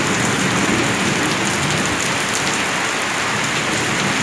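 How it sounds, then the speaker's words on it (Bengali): Steady, loud rain pours down onto a street, a dense continuous hiss of drops pattering on wet surfaces with no break and no voices. "মনে হচ্ছে বেশ খানিকক্ষণের জন্যই বৃষ্টিটা নেমেছে, আস্তে আস্তে করে রাস্তাতেও জল দাঁড়াচ্ছে"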